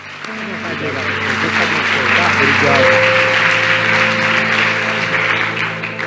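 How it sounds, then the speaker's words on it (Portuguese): A church congregation applauds the Lord during a service, sustained crowd clapping over a held musical tone and sustained organ-like chords, loud and even. "Vamos aplaudir ao Senhor."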